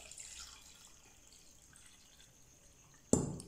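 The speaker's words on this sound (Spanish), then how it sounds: "Te voy a agregar 2 litros de agua a esta preparación." Two liters of water poured into an herbal tea preparation for circulation: a faint steady watery hiss, then a sudden loud close splash near the end.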